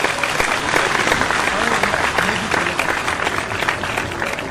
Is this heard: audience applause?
yes